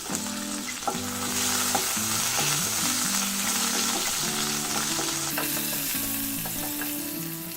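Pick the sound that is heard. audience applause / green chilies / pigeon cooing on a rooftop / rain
green chilies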